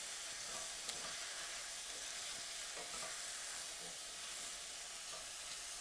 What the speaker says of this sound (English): go ahead and stir all of that in together